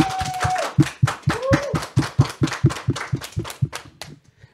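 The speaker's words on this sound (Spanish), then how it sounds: "al cual recibimos con un fuerte aplauso" A small studio audience on a Catholic talk show gives a round of applause, with sharp, rhythmic claps at a steady pace from a few hands, close and crisp, tapering off at the end.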